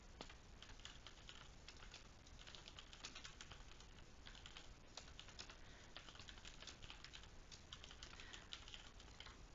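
Typing on a computer keyboard while writing a message, a continuous faint patter of quick light key clicks with no voices over it.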